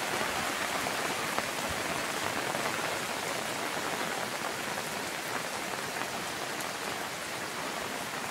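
Heavy rain from a storm pours steadily at a rural farm, a dense, loud hiss of drops drumming on surfaces that stays constant throughout with no talking.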